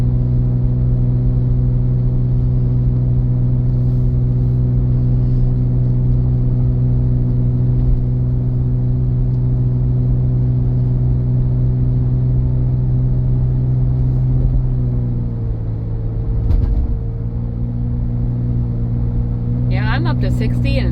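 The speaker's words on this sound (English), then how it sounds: "it has good acceleration going up this hill" A 2014 Ford Edge pulls up a hill under steady acceleration, its engine droning evenly from inside the cabin with a smooth change in pitch partway through as the transmission shifts.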